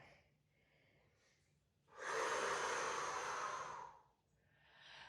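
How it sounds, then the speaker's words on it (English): Deep, forceful breath during a no-equipment power Pilates workout, a loud airy exhale lasting about two seconds at close range, framed by quieter breaths before and after. "Deep breath, inhale, and exhale, send it back."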